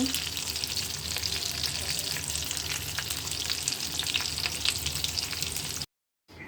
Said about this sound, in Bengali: মাছ ভাজি করছি